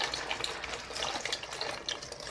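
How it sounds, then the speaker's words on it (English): Pasta dropped into a pot of boiling water, a faint, continuous burble and splash of bubbling liquid with no voices. "Try not to make as much splashing as I am."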